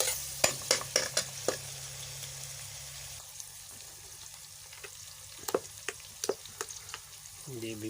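Brinjal frying in a pan for baingan bharta, a steady sizzle broken by a series of sharp scraping clicks from stirring, busier at the start and again near the end, with no voices.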